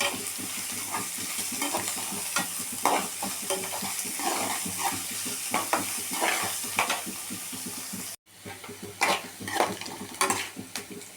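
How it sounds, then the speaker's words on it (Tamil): Carrots and beans sautéing in a pan for samba rava upma, with a steady close sizzle and frequent scraping, clinking stirs of a spoon against the pan, briefly cut off near the end before resuming. "கேரட் பீன்ஸு நல்லா வதங்கிட்டு"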